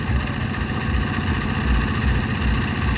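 A boat's engine drones steadily on the Jamuna River at Sirajganj, a close, even low rumble with a rhythmic throb and no voices.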